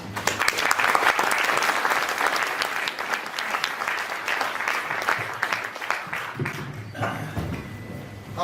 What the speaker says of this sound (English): I'll assume you were clapping Tim then and not me